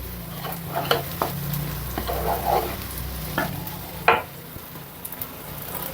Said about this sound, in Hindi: अब हिला लूँगी।